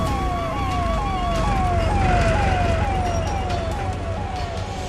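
Ambulance siren wailing in a repeating rising-and-falling cycle as the vehicle drives away, loud and steady over a low engine rumble, with no talking.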